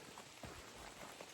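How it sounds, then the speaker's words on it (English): Steady rain falls on the Appalachian Trail on a dreary day, a dense, close patter on wet surfaces with no voices, continuous through the short stretch. "nasty, dreary, rainy day."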